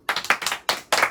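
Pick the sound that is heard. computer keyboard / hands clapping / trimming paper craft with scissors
hands clapping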